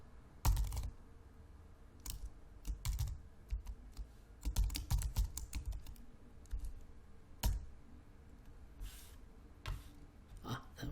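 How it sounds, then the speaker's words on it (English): Keys clatter on a computer keyboard as an edit command is typed, with irregular clusters of close, crisp clicks and short pauses between bursts. "you can hit tilde, type edit, space,"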